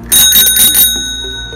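A bright metal bell on a Fascino FM22 mini bicycle with 22-inch wheels rings several quick strikes close up, then its tone decays and rings out alone.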